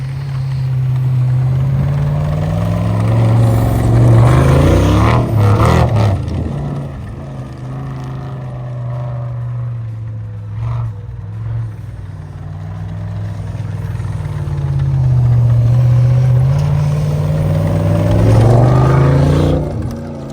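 An LS V8-swapped snowcat drives through deep drifted snow, its engine droning in a steady low rumble that swells and eases as it pushes along, close and loud with no talking.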